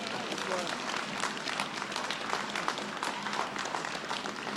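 Audience applause at Alabama A&M University's 147th Founder's Day Convocation, a steady wash of many hands clapping in a large hall, moderate and distant, with no speech over it.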